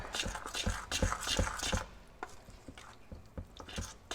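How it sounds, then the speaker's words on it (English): Melted butter is mixed into cornbread batter in a bowl, quick close spoon taps and scrapes for about two seconds, then slower scattered strokes, quiet and with no talk. "I put half of the butter mix melted in there into the cornbread mix and just mix that up"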